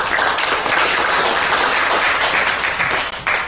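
Audience at a Korean forum on border regions applauds to welcome a speaker to the discussion, a loud, dense and continuous wash of clapping with no voices, tapering slightly at the very end.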